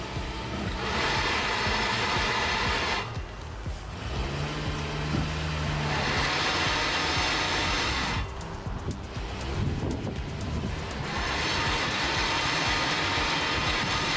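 SUV, a Mitsubishi ASX or 2019 Suzuki Vitara, revving on rollers during a traction test: sustained engine roar in long bursts separated by brief quieter dips, with wheel rumble underneath and no talking.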